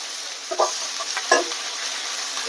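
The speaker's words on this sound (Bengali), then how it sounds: "এগুলো ভেজে নেব।" Ginger paste with ground coriander, cumin and black pepper paste frying in a pan for a mutton dish, a soft steady sizzle broken by a couple of brief stirring scrapes, close and fairly quiet.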